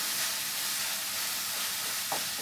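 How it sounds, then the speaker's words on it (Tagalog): A steady sizzle and hiss from ginger paste, garlic paste and spices being stirred in a hot cooking pan, with one brief scrape near the end and no voices. "Mix lang natin ng maigi para maluto itong ating spices"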